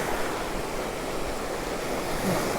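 Ocean waves breaking on Cromer Beach, a steady loud broadband wash of surf with wind buffeting the microphone, continuous with no voices.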